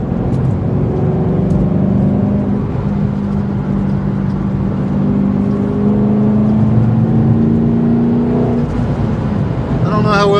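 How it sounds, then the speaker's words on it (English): A 2007 Mustang GT's three-valve V8 hums through its exhaust from inside the car while cruising, the engine note rising gradually under steady road noise before easing off at the end. "How well you guys can hear the exhaust"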